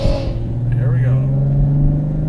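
A modified ex-rental V6 Camaro with long tube headers accelerates from inside the cabin, its engine note rising steadily in a loud, throaty drone while people talk over it.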